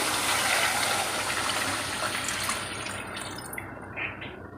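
Leftover meat-boiling water poured into a pot of beef nihari, a steady loud liquid pour and splash that thins out near the end, with no talk.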